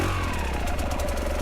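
A KTM dirt bike engine lugs at low revs under load, a steady, close, loud mid-pitched engine drone with a throbbing low pulse and no talk.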